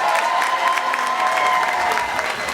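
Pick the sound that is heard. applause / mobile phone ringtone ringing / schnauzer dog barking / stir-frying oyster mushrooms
applause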